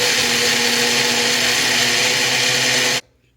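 A kitchen blender grinds red chili sambal with a loud, harsh, continuous whir for about three seconds, then cuts off abruptly into near silence.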